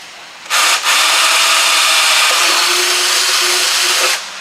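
A loud power drill whines steadily for about three and a half seconds, grinding a hole through metal on a car body before stopping abruptly.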